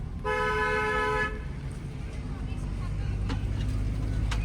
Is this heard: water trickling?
no